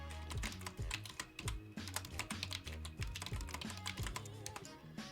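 Typing on a bamboo computer keyboard: close, quick irregular key clicks and taps in uneven bursts, sounding on their own with no voices.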